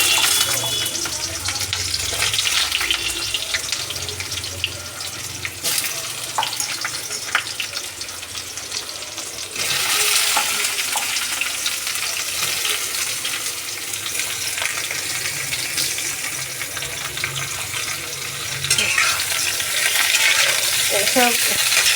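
Plantains slide into a hot pan and fry with a loud, continuous sizzle, broken by stirring scrapes and brief watery bursts, with no voices over it.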